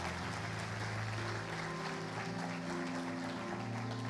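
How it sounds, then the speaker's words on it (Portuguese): A church congregation claps together in steady, dense applause that fills the room, with sustained organ or keyboard chords playing underneath, lasting a few seconds without a break. "Você pode dar uma salva de palmas a Jesus"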